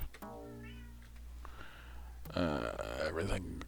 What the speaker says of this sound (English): if you can hear meowing in the background, that's my cat